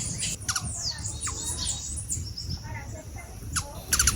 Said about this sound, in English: good place to enjoy watching and listening to the many birds on this property is the huge open outdoor living area